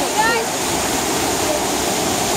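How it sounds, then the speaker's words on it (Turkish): A waterfall near Düzce, Turkey, gives off a constant loud, even roar of falling water that fills the whole stretch, with a voice faintly present. "Şelale görüyorum diyorsun sadece."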